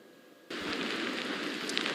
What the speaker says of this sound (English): we can feel a strong band of wind right now and some rain that's really been kicking up over the last several minutes